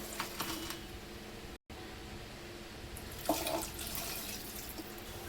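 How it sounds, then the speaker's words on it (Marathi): Quiet splashing water, then a clearer pour of two glasses of water into a pressure cooker of vegetables near the end, with a brief silent gap early on. "भाज्यामध्ये आता आपण 2 ग्लास पाणी टाकून घेऊया।"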